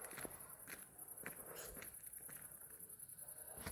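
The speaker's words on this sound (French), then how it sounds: "Tu fais des bruits de pas." Soft footsteps in a park at midnight, a few faint steps patter quietly across a hushed background with no talking.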